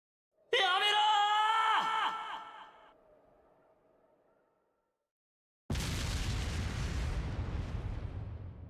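A railway gun firing in the video game Trails of Cold Steel: a tonal, ringing mechanical whine that fades out, followed after a silence by a sudden loud, sustained roaring blast.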